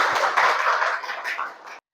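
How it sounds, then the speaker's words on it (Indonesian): A small classroom group claps for presenters, a brief burst of hand clapping that is strong at first, then thins and fades before stopping abruptly. "beri tepuk tangan buat kelompok yang maju"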